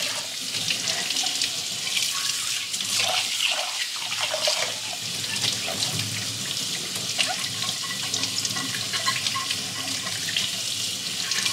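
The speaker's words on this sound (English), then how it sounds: "And then turn on the sink and rinse it out." Water runs steadily from a sink tap to rinse out an emptied candle jar, a close hiss and splash that sometimes changes as the jar shifts under the stream.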